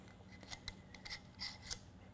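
A threaded inboard safety spacer with an internal spline slides onto a bike hub, making faint, close metallic clicks and light scraping in a quiet room.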